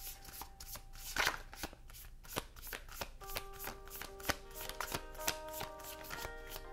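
Tarot cards being shuffled by hand at close range, a quiet run of soft riffling bursts and sharp slaps of the deck, with light tapping between shuffles and no talking.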